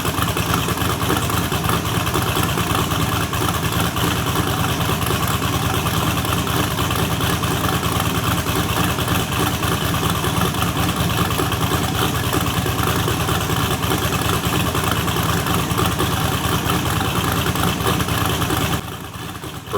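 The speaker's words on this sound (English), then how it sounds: "Remember, this is a race car and a race engine." A race car with a new LS engine idling steadily and loudly on a hub dyno, a continuous rough rumble that holds constant before dropping off near the end.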